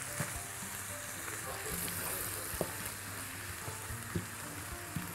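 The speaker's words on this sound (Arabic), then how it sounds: "هنبتدي بقى نحط اللبن اللي عندنا ونقلب على طول" Skimmed milk stirred into oats in a cooking pan, a soft continuous bubbling sizzle with scattered light scraping clicks from the spoon, close and moderately quiet, no voices.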